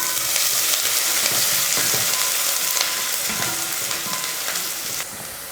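Chopped onion frying in a pan with cinnamon, cloves and bay leaf: a loud, dense, continuous sizzle close by with faint stirring clicks underneath, easing slightly at the end.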